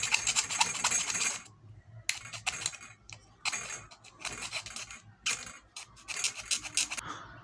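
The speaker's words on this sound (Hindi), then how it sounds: "अब मैं इसको एक रेती की मदद से इसको बराबर" A file rasps back and forth across the cut edge of a plastic box to smooth it, in repeated close scraping bursts with brief pauses between strokes.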